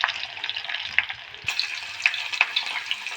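Onions frying in hot oil with tempering spices, a steady faint sizzle with occasional crisp pops and a brief stir partway through, no voices.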